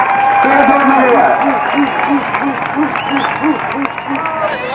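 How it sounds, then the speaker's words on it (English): A large crowd at the March for Europe rally bursts into sustained clapping and cheering, a broad roar heard outdoors through a PA, with a rhythmic chant pulsing beneath and voices mixed in. "Big applause in the back. Big applause everywhere."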